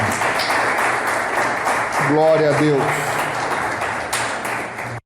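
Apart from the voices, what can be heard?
church congregation applauding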